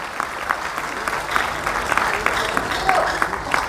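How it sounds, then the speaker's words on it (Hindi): An audience at a meeting applauds with scattered, uneven clapping, individual sharp claps standing out over a softer crowd wash, with faint voices mixed in. "तालियों में कोई कंजूसी नहीं"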